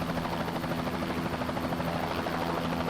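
Bell 206 JetRanger helicopter in flight, its steady rotor thump and turbine whine droning loud and close without a break, no voices.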